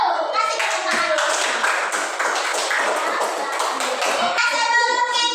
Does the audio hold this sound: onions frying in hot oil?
no